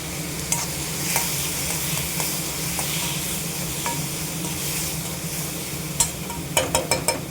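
Dal sizzles and fries in a pan in a continuous close crackle, with occasional stirring scrapes, and a quick run of sharp metallic taps near the end. No one speaks.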